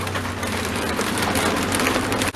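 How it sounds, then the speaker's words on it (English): Steady rain from a welcome storm pattering loudly and continuously on surfaces nearby, dense and unbroken with no voices. "Yay, we have rain."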